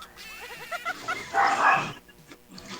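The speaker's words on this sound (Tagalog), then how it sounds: "Mas malakas pa tahol ang aso mo." A dog gives a short run of rapid yips and barks, fairly close and loud, followed by a brief harsher burst and quieter noise afterward.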